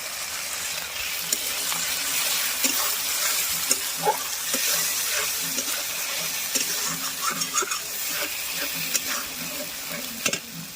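Grated tomatoes go into a hot frying pan with onion and masala, producing a continuous close sizzle. Stirring ticks and spatula scrapes recur through it.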